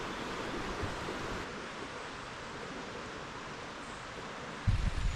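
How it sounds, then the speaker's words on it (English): Steady broadband rush of a river flowing through a stone channel in Wales, constant and fairly close, with a brief louder splash near the end. "And all the way down here, got a nice river."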